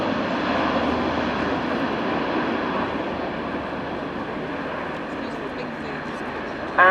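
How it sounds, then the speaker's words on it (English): Airbus A400M Atlas military transport flying low past with undercarriage down at an air display, a steady broad turboprop roar that slowly fades, with a voice talking over it. "Here we see the aircraft coming down with undercarriage down,"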